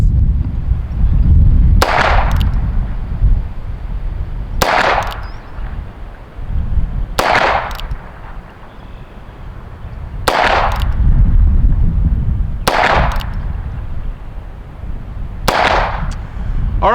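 Six loud, sharp shots from a Heritage Barkeep 2-inch revolver firing .22 Magnum rounds at 10 yards, spaced roughly every two to three seconds, each with a short echoing tail over steady outdoor range background.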